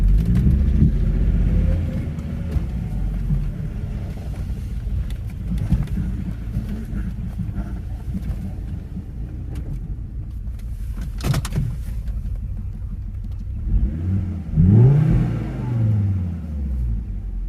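A Volvo S60R engine idles with a steady low rumble, a brief sharp clunk partway through and a rougher surge of revving near the end.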